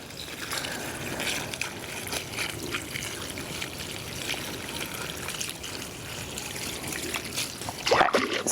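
Water runs and trickles steadily outdoors while beets are rinsed, making a continuous splashing flow with small bumps and clatters. A sharper splash comes near the end, and no one talks.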